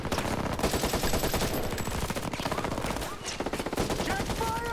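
Sustained automatic gunfire in the video game Ghost Recon Breakpoint, dense rapid bursts of shots that barely let up, loud and close, mixed with game effects and no clear talking.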